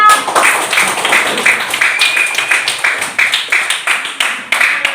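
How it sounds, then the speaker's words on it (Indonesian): Classroom students clapping for their classmates, a fairly loud, close run of rhythmic group claps that keeps a steady beat before easing off. "beri tepuk tangan kepada semua teman kelas kita"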